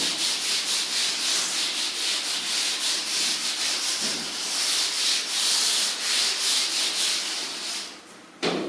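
Writing being rubbed off a classroom board during a maths lesson, a dense continuous scrubbing sound with a rhythmic back-and-forth pulse, close and fairly loud, ending with a short knock.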